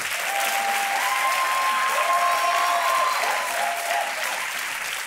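A studio audience on a TV quiz show claps steadily and loudly throughout, a dense, even wash of applause with faint sustained tones in the background.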